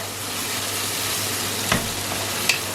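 Onions and two chopped tomatoes fry over a medium flame for achari chicken, hissing in an even, continuous sizzle with two sharp clinks of a spoon against the pan near the end.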